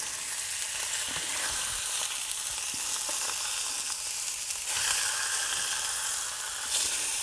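Salmon fillets sizzling in a skillet while being flipped, a steady loud frying hiss with small crackles and scrapes, close and continuous with no talking.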